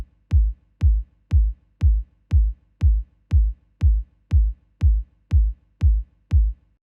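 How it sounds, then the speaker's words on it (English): A deep electronic kick drum sample from a music production session thumps in a steady, evenly spaced pattern of about a dozen hits, punchy and bass-heavy, playing alone. "the kick sounds like this. It's a common household kick."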